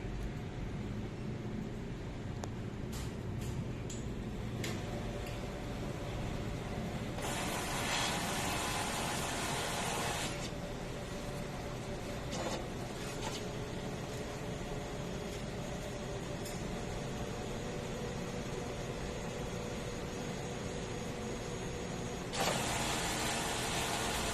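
A DTF printer runs a head clean cycle: a steady mechanical whir and hiss throughout, with bursts of brighter noise and occasional faint clicks and creaks.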